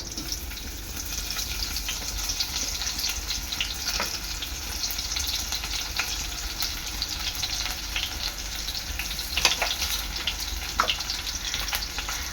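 Onion frying in oil with whole garam masala spices and bay leaf for a pulao, a steady close hiss of sizzling with a few sharp ticks and pops scattered through, no talk.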